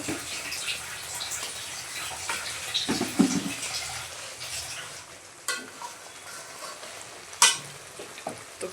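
Bay leaves frying in hot oil while being stirred, a continuous close sizzle broken by scraping spoon strokes and a few sharp metallic clinks against the pan, with no talking.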